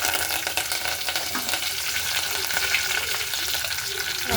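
Whole garlic cloves and curry leaves frying in hot oil, giving a loud, dense, continuous sizzle up close with steady crackle and no talk.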